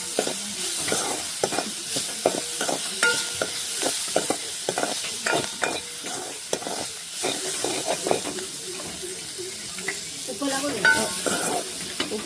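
Strained juice from ground prawn heads goes into a pan of sautéed onions and chilies, bringing a steady loud sizzle and hiss with scraping stirs and steam.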